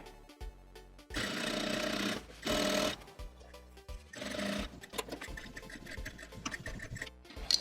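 A sewing machine runs in several separate bursts while stitching a seam on a pair of jeans being tapered narrower, each run a loud steady whir broken by short pauses and quieter handling noises.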